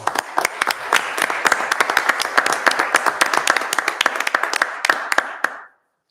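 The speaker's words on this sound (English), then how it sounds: "Would you please join me in a round of applause for Helen?" A small council-meeting audience in the Town of Southern Shores gives a round of applause, many close, sharp hand claps running steadily for about five seconds before stopping abruptly.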